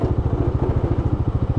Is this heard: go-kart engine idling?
yes